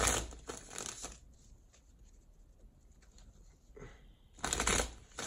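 Tarot cards are riffled in a quick burst at the start, then after a quiet stretch with faint handling noise a second loud, crisp shuffle ends the clip. No one speaks.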